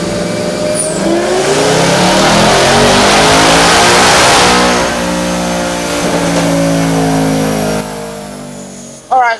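Whipple-supercharged Ford S650 Mustang engine roaring under load through a sixth-gear pull, one long loud sustained rev that climbs steadily in pitch for about eight seconds before cutting off.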